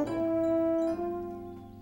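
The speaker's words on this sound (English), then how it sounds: "this French horn has a soft, mellow sound" A French horn holds a single soft, mellow note, a clear sustained tone that swells briefly, dips near the middle and then fades gently, played alone without talk.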